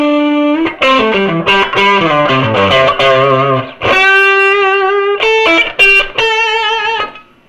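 Electric guitar runs through a Wampler Plexi-Drive Deluxe overdrive pedal, playing loud distorted riffs: a descending run of held notes, then sustained chords and short stabs with brief gaps between them, no voices.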